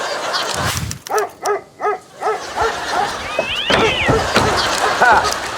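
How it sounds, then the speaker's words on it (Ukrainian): A dog yips and barks in a quick series of short sounds, then a cat meows, with people talking over and around the animal sounds. "Та ні, кіт і пес."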